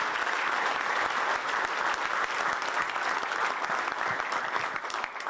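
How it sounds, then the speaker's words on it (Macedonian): A crowd at a Macedonian basketball awards ceremony claps steadily and loudly for the honoured players, a dense sustained round of applause with no speech over it. "Ве молам уште еден аплауз за овие звезди на македонското кошаркашко небо."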